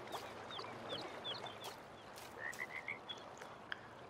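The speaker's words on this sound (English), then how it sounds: "hear the frogs as well." Frogs in Farming Simulator 19 croak and trill in short repeated bursts, several calling at once over a steady background hum, moderately faint.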